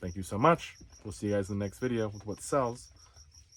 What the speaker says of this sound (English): You did hear the crickets outside, they're outside.